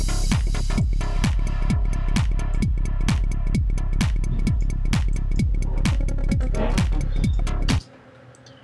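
An electronic music track built around a synthesized kick drum, with a punchy, booming kick hitting in a steady four-on-the-floor pulse over bright synth layers, loud and alone, then cutting off abruptly near the end.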